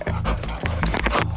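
Customs detector dog panting at Manchester Airport, quick rhythmic breaths close by and fairly loud, with a little background noise and no clear talk.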